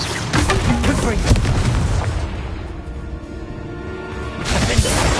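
A Confringo fire spell explodes in the video game Hogwarts Legacy: a loud, dense burst with crackling impacts that fades into a low rumble, then another blast near the end.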